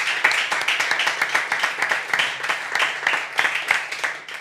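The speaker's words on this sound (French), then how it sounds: "Et ça mérite aussi vos applaudissements" A radio-show studio audience gives close, lively applause with dense, rhythmic clapping that pulses steadily for several seconds and has no speech over it.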